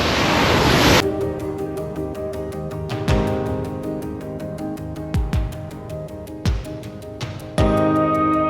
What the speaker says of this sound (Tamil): தண்ணி வந்து மலையிலேருந்து ஃபோர்ஸாக வருது.